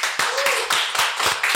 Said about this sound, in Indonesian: Sekali lagi tepuk tangan untuk dia